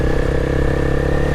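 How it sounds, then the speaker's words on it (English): A 600cc motorcycle fitted with a Two Brothers aftermarket exhaust runs steadily and loudly close by, a constant throaty engine drone with no change in pitch and no voices. "Got an aftermarket exhaust, Two Brothers aftermarket exhaust, so it sounds pretty decent."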